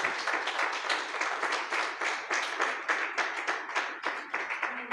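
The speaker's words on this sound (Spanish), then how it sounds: "Denle un aplauso al Señor." A church congregation applauding the Lord, a sustained rhythmic clapping of many hands close by, with individual claps standing out in a quick beat for several seconds.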